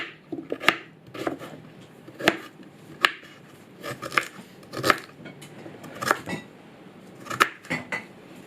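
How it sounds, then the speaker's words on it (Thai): A knife taps against a cutting board in irregular sharp clicks, steady chopping of ginger, close up with no voices. "ต่อไปเป็นการหั่นขิง"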